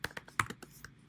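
Rapid keystrokes on a computer keyboard while entering a product category in an online store builder, a quick uneven run of light clicks close by, with no talk.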